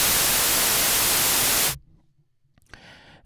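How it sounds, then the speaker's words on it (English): A subtractive synthesizer's noise oscillator gives a loud, steady hiss of random noise for under two seconds, then cuts off abruptly into near silence before a faint, brief return of softer noise near the end. "And noise is just like it sounds, random oscillations and noise."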